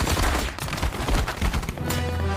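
Rapid gunfire bursts ring out in a tense film scene, dense overlapping shots crackling continuously and loudly with no pauses or voices.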